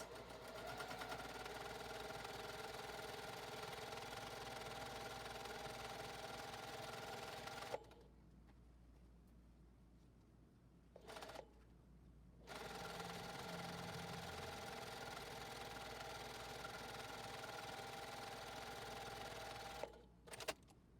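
A JUKI sewing machine stitches fabric pieces for a car organizer, running in long steady whirring bursts, then stopping for a few seconds of near silence, with a brief run before it resumes and stops again near the end.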